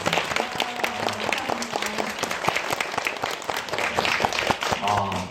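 A cinema audience at a documentary screening talk gives a big round of applause, dense and sustained clapping that fills the room, with a few voices mixed in.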